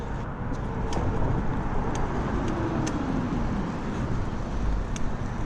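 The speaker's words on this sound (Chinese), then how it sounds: "看来这个左手边呢是有汽车的道路。" Cars pass on a road alongside a cycling path in Minhang, Shanghai, a steady near traffic roar with one vehicle sweeping by, heard while riding along.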